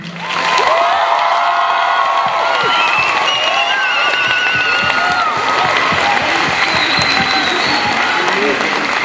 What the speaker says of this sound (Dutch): wil ik graag echt het luidste applaus van de hele wereld voor al die fantastische finalisten hier vandaag.